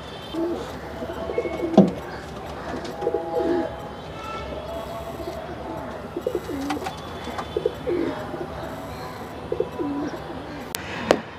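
Royal Teddy pigeons in a Mumbai loft cooing repeatedly, soft throaty coos scattered over steady background noise with occasional wing or perch sounds, no talking.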